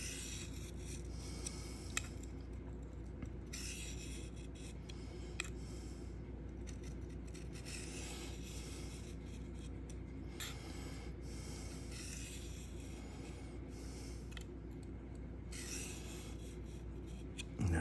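Knife edge of S110V steel drawn across a Sharpal field sharpener, a steady run of close, dry rasping strokes repeating evenly throughout with no talk.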